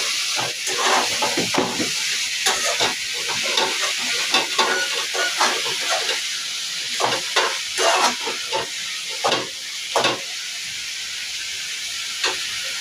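Drumstick leaves sautéing in a pan for a Tamil egg stir-fry, a steady loud sizzle and hiss with repeated scraping stirs of a spatula, no voices.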